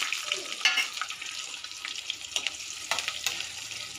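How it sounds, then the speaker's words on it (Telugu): Mustard seeds, cumin, dried red chillies, curry leaves and onion pieces frying in hot oil for a mango pachadi tempering, a soft steady sizzle with crackles and light stirring scrapes, fairly close. "ఆయిల్ వేడెక్కిన తర్వాత ఆవాలు, జీలకర్ర వేసి అవి వేగిన తర్వాత ఎండుమిర్చి, కరివేపాకు, ఉల్లిపాయ ముక్కలు కూడా వేసి బాగా వేయించుకోవాలి."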